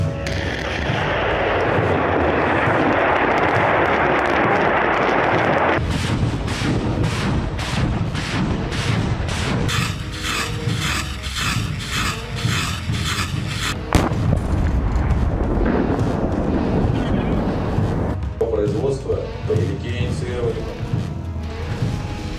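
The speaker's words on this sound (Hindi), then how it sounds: "20 सेकंड का ये वीडियो रात का है, जिसमें ताबड़तोड़ फायरिंग की जा रही है।" Russian rocket artillery fires at night in rapid, rumbling volleys, a dense string of booms and launches heard from a distance, with narration speaking over it throughout.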